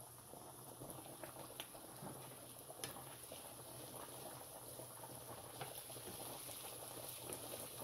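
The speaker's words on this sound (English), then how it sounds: "Our noodles are cooking very well." Pasta noodles boiling in a pot, a steady dense bubbling and simmering hiss that runs evenly throughout with small pops, close and moderately loud.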